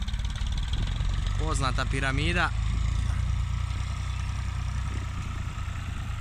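An IMT tractor, either an IMT 539 DLI or IMT 756 VK, idles with a steady low diesel rumble during winter ploughing in a small field, while someone talks briefly over it near the start.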